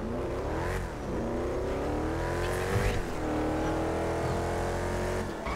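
A car engine from GTA V, modified with a custom engine sound, revs up in repeated rising sweeps at close range, loud and sustained with brief dips between gear changes and no talking.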